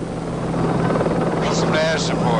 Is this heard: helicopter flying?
yes